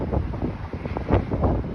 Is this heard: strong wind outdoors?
yes